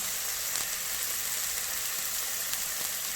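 Deodeok roots frying in a mix of perilla oil and cooking oil give a continuous, even, close sizzle with a few small pops, and no voices.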